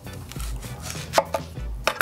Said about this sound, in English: And cut it in half.